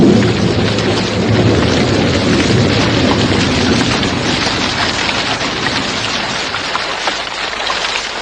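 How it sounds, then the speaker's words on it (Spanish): Steady rain falls with distant rolling thunder as a radio drama sound effect, a dense, loud, continuous wash of hiss that stays constant with no voices. "Justo entonces comenzó a llover, y la brisa se aletargó sobre su espalda."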